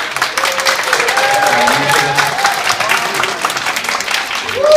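A lecture audience at a 2014 Incheon viewer media fair talk concert bursts into sustained applause to welcome a TV producer, a dense, steady wash of clapping with faint crowd murmur throughout.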